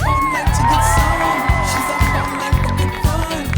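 Spectators at the 2016 USA Gymnastics Championships senior competition cheer and whoop loudly in an arena, with bright shouts rising over a sustained crowd roar and a few sharp accents.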